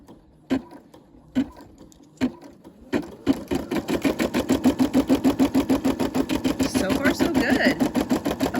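A sewing machine stitches a project, starting with a few separate single thumps and then running steadily with a fast, even mechanical rattle, loud and close.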